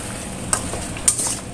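Chicken stew (semur ayam) with potato and carrot stirred in a pan after a little water goes in, giving a steady soft sizzle with two brief scraping clinks of the spoon partway through.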